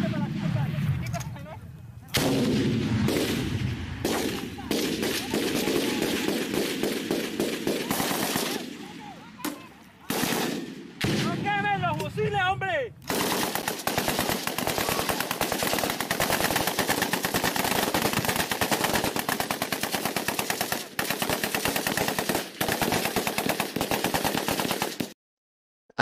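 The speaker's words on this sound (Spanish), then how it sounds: "los vemos batiendo en una posición a varios, varias personas con ametralladora" Machine gun fire in Colombian combat footage: dense, loud, continuous bursts of automatic gunfire dominate the recording, with a few brief gaps and rattling clatter between volleys.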